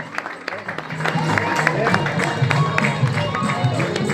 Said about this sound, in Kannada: ಜೋರಂಗ ಚಪ್ಪಾಳೆ ಕೊಟ್ಟರೆ